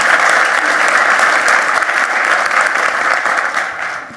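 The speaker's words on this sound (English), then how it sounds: "So a big round of applause and welcome to Commissioner" Dense, loud applause from a conference audience at a women's power and utilities panel, a steady wash of many hands clapping that fades slightly at the end.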